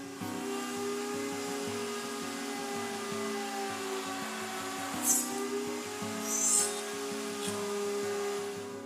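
Steady high whine of a woodworking router cutting dovetail pins along a template, a continuous motor drone heard close with brief hissing bursts of cutting as the bit passes through the wood.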